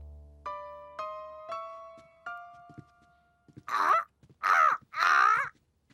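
A voice imitates a parrot's call with three loud, harsh, closely spaced squawks. They follow a short run of four descending chime-like notes.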